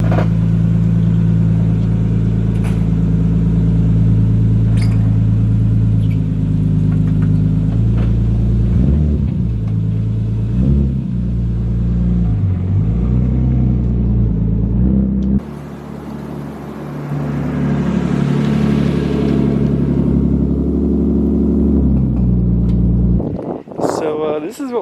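Lowered Nissan R33 Skyline idling with a deep steady engine rumble, then revving and creeping out of a driveway, tone shifting as it moves; a brief clatter near the end.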